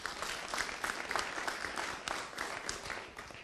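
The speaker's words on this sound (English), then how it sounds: "Those who believe no, please applaud." A town hall audience applauds in a loose, moderately sparse patter of claps that goes on for a few seconds, with no speech over it.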